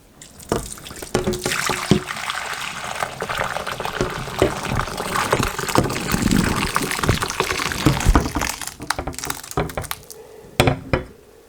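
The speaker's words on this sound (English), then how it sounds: "I'm going to use a jelly bag. We are going to strain the cheese." Cheese curds and whey being poured into a jelly bag to strain homemade cheese, a loud splashing, gurgling pour that runs steadily for several seconds, then tapers off into drips and a few handling knocks.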